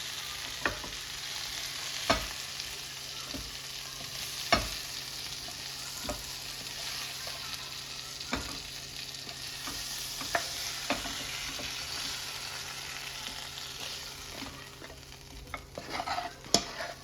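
Chicken pieces shallow fry in a pan for a wedding-style chicken masala, with a continuous frying sizzle and regular, evenly spaced spatula taps and scrapes against the pan; no voices.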